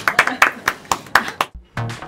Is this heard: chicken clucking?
no